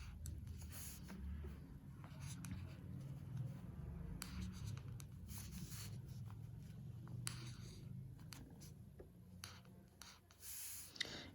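Pen scratching steadily across paper while Hindi letters are written out by hand, a close, continuous rubbing with brief lifts and strokes and no speech.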